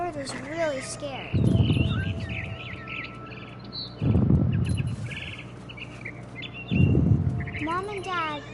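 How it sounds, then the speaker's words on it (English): A barn swallow chirps outside a window in the video game What Remains of Edith Finch, with short high twittering calls at the start and end over a low game ambience and periodic deep swells. "Then I heard chirping outside my window. It was a barn swallow going back to her nest."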